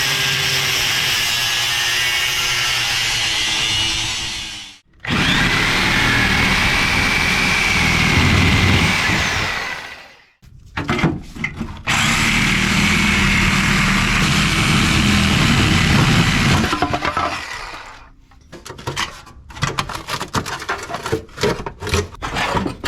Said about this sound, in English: First step is slicing right here, because everything behind this elbow is going to get tossed.